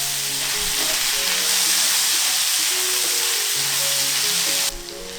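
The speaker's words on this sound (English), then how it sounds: "I'm making this cook fry so it reduces and caramelizes." Onions frying and caramelizing in a pan, reducing down, with a steady loud sizzle and crackle running throughout and a brief stir near the end.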